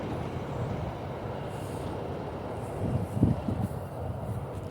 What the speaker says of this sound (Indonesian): ini ada kereta api lewat, jadi rada berisik suaranya ya